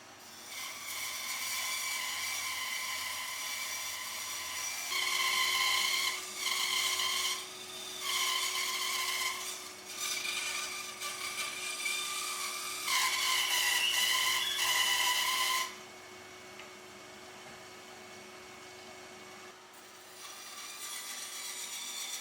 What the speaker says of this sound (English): I'm just going to mark it out and cut that out on the bandsaw